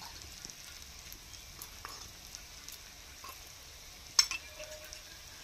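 Spices with Kashmiri chilli powder and turmeric powder frying in a pan for a Bengali potol (pointed gourd) dish, giving a soft, steady sizzle with occasional light scrapes of stirring and one sharper clink near the end.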